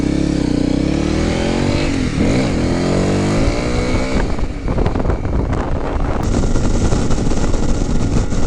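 A motorcycle rides off with its engine note sweeping up through the gears, heavy wind rush buffeting the microphone throughout as the rider gets under way.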